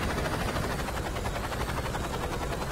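A video game helicopter's rotor thumps in a steady rapid chop beneath a loud, constant engine roar, close and unbroken throughout, in Saints Row 2.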